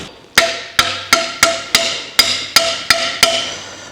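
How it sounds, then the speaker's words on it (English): A brass hammer taps a dipstick tube into place on an engine during a Scout restoration, nine sharp metallic taps in a steady, close rhythm with ringing decay between them and no talk. "So the dipstick tube just needs a little tap."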